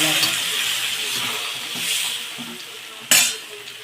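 A spoon stirs bottle gourd koottu in a pot, giving soft scraping and a steady sizzling hiss, with a sharp metallic clink near the end.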